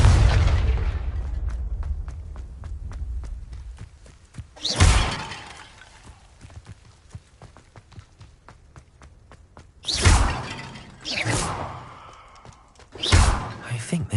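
Explosive Confringo spell blasts in Hogwarts Legacy, several loud bursts with shattering crashes like breaking vases, separated by quieter stretches of faint ticking and game ambience, with a voice speaking at times.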